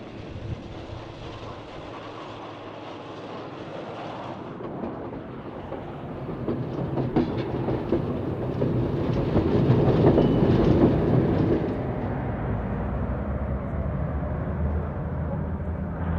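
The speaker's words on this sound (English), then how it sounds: "As these 950 class cars roll by" Pacific Electric 950 class streetcars roll past on the Venice Short Line beside a street in Los Angeles, a steady rumble of wheels and clatter on rails that builds louder toward the middle as the cars pass close, with no voices.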